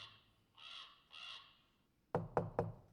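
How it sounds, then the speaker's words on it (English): Raven at a window, two drawn-out harsh caws followed by three sharp knocks in quick succession, close and clear against a quiet background. "You see a raven at your window"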